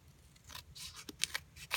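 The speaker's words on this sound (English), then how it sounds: "I'm going to go ahead and just trim this real quick." Scissors trim a paper pennant for a handmade soccer card, giving several short crisp snips that grow louder near the end, with no talking.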